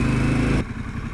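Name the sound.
motorcycle engine running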